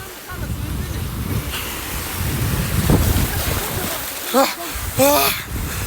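A motorboat motor drones steadily over rough sea water, with wind buffeting and waves splashing, while a few voices shout out briefly near the end.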